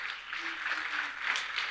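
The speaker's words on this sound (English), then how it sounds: "Applause." An audience at a conference applauds in a steady, moderately distant wash of clapping that runs throughout without pause.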